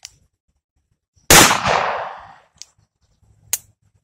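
A single loud gunshot from a .38 Special +P revolver cracks close by and rings out briefly, followed by faint clicks of handling.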